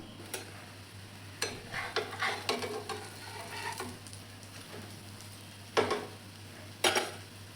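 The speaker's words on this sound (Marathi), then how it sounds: "आता व्यवस्थित शेकून घेऊ आपण." Potato dhokla pieces fry in a pan while a spatula stirs and scrapes them, giving soft sizzling under scattered clinks and taps, close and fairly quiet.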